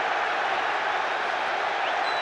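A big football stadium crowd roars and applauds steadily after an Arsenal goal against Chelsea, a dense, even wash of distant cheering with no break.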